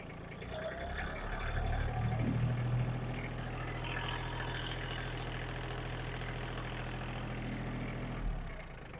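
A used ISEKI mini tractor's diesel engine runs steadily in a close, continuous drone, lifting briefly in pitch around the start as the throttle is opened and then settling back to a steady idle for the rest of the clip.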